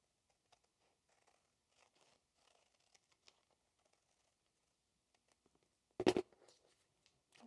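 Fabric being cut out into a bag shape, heard as quiet, scattered snips and rustles, then one louder burst of crumpling and handling near the end, with no talking.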